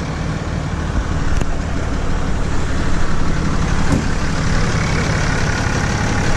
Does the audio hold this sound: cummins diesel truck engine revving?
yes